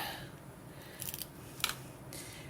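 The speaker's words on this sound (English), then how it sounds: "I'll use my scissors instead." A few short, crisp snips of scissors cutting paper, close by, spaced unevenly over a quiet background.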